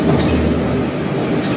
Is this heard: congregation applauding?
no